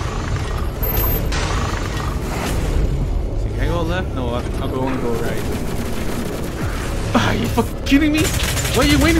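Rapid gunfire and explosions in the first-person shooter game Doom Eternal, dense bursts of shots and booms throughout with game creature noises, and a player talking over the action.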